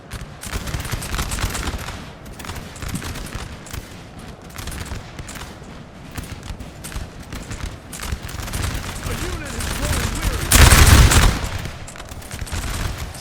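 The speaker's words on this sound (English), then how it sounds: "just shooting with your skirms, being just a pain there" Musket fire crackles continuously across a Napoleon: Total War battlefield, dense rolling volleys under a speaking voice, swelling into a loud burst near the end.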